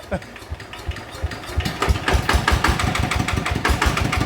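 A small engine with freshly replaced gears revs up, starting with quiet, scattered knocks before building into rapid, loud, rhythmic pulsing, with people talking faintly nearby.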